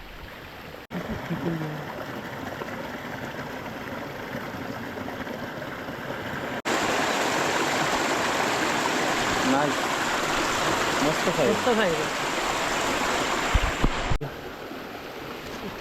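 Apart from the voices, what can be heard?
river stream flowing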